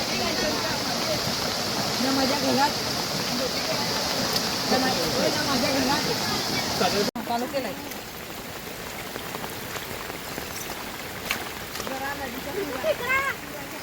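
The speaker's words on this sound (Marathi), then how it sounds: "बघ किती पाणी वाहते फास्ट" Loud, continuous rush of fast-flowing floodwater over the Palghar–Manor road, a broad turbulent roar that eases slightly halfway, with people talking over it.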